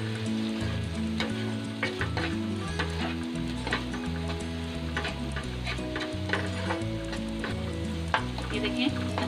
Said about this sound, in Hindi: 1 मिनट तक इन दोनों को मिक्स करके फ्राई करेंगे।